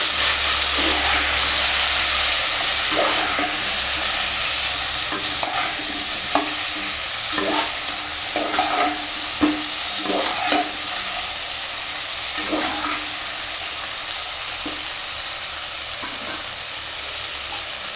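Beans and potatoes with salt and turmeric, for shorshe bata shim alu charchari, sizzle steadily in a pan while a spatula scrapes and taps through them in irregular strokes, close and loud over the continuous frying hiss.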